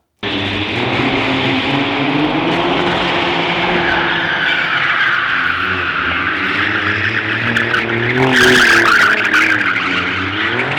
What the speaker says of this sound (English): I show them some high-speed drifting, and I show them the fact that the car was capable of doing stuff.